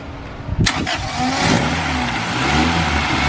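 A Honda Civic EG engine cranks briefly and catches, then runs loud and close with a rising, rough rev that settles into a steady drone.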